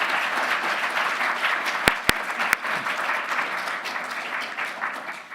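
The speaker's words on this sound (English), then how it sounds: "If people can give a round of applause to the panelists." Conference attendees at a quantum information event applaud the panelists, a close, steady wash of clapping with a few sharp knocks or thumps partway through, gradually thinning toward the end.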